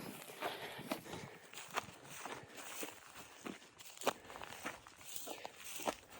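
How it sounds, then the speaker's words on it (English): Footsteps crunch through dry Idaho brush and ground as a hunter walks up to a downed pronghorn, a steady irregular stride of close, quiet steps with no talking. "So we're going to walk up to him right now."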